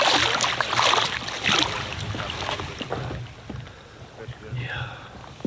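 A canoe is paddled across a remote backcountry lake, with close splashy paddle strokes and water wash mixed with wind buffeting the microphone and some voices.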